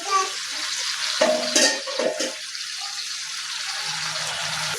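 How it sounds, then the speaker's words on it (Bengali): Fish pieces dropped into a pan of boiling curry bring a brief splash and clatter, then a steady bubbling simmer and soft sizzle that carries on alone. "খুব সুন্দরভাবে বলক এসেছে, এখন এখানে মাছগুলো ছেড়ে দিব আমি"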